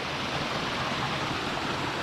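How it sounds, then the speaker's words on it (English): Waterfall in a wild Scottish glen dropping into a pool, a steady, broad rushing roar heard up close and unbroken, with no voices. "Right now we're within the waterfall."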